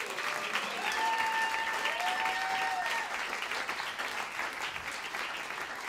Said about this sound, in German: Bitte Applaus für die Franzi noch mal.